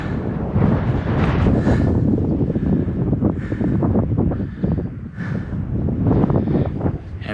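Strong gusty wind roars against the microphone on a cycling trip in Monterey, California, a continuous rumbling buffet that swells and eases in waves.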